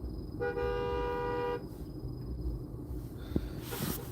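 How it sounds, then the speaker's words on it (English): A car horn honks in one sustained, slightly wavering blast outdoors, followed by low traffic rumble and a brief sharp knock. "this guy honking is annoying me"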